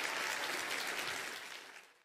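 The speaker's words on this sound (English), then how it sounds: "Big old round of applause for Max." A short burst of crowd applause, dense clapping that holds steady and then fades out toward the end.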